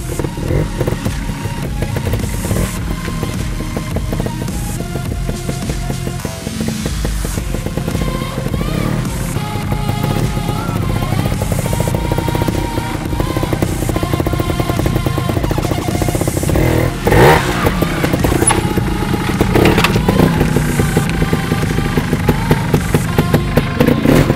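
A trials motorcycle ridden along the expert sportsman line at an NATC observed section, its engine revving and popping in close, continuous bursts under a busy background wash.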